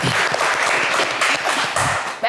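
A studio audience on a French TV game show claps steadily, a dense, continuous patter of applause filling the short moment.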